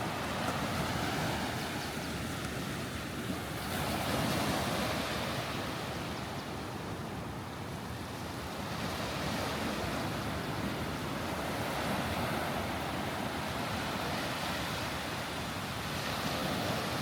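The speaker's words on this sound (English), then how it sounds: "I'm walking along the shore of the Indian Ocean this morning here in Kenya." Indian Ocean surf washing onto a beach in Kenya in the early morning, a steady loud roar of breaking waves with gentle swells and some wind, continuous throughout with no talking.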